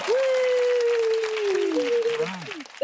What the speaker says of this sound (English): let's give a round of applause for our guest, everybody